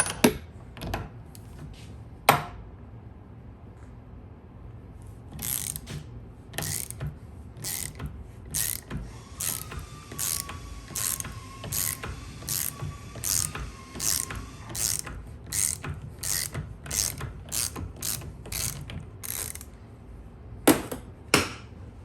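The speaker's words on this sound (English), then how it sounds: "we are going to start by removing the nut." Ratchet wrench removing the nut from a King Shock shaft assembly held in a vise, a few isolated clicks followed by a long run of rapid, evenly spaced ratcheting clicks, close and crisp.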